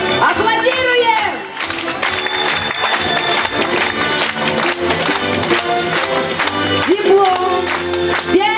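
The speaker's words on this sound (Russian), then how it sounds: "Аплодируем!" Audience applause at a Russian folk song contest gala concert, steady clapping and cheering from the hall beneath a presenter's amplified announcement.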